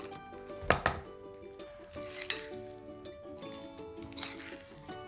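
A spoon clinks and scrapes against a bowl while egg salad with celery is mixed, with irregular sharp taps and soft squishing over a faint background tone, close and without speech.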